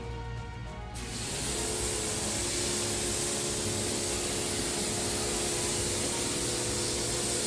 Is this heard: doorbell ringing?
no